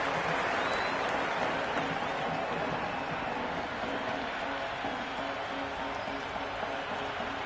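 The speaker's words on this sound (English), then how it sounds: "It's evident and ever so audible that the crowd is at near bursting point at today's play." Steady roar of a large stadium crowd cheering throughout a T20 cricket match between India and Australia in the video game Cricket 26, a dense continuous wash of noise with faint clapping, no clear peaks.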